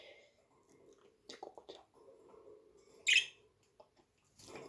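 A pet bird named Cocuța moving about the rooms of a house, giving a few short chirps and one sharp louder call among quiet rustling and soft fluttering sounds.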